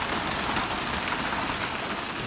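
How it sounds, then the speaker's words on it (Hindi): Heavy rain and hail pour down during a thunderstorm in Islamabad, a dense, loud, continuous hiss and patter filling the whole clip without pause. "बहुत तेज़ ज़ालाबारी है"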